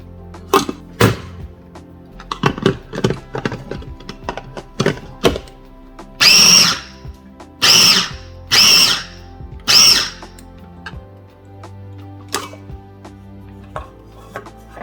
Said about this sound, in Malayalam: ഇതെല്ലാം കൂടെ ജസ്റ്റ് ഒന്ന് ചതച്ചെടുക്കുകയാണ് വേണ്ടത്.